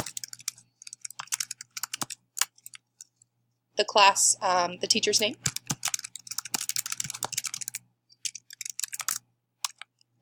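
Rapid clicking keystrokes on a computer keyboard come in irregular bursts throughout, close and crisp, with a person speaking over part of the typing.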